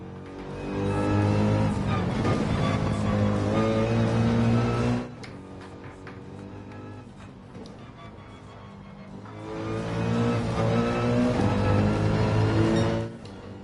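A throaty, loud V8 engine drone in the video game Gran Turismo 7, with rich harmonics, surging for several seconds, easing off briefly, then swelling again to a steady roar.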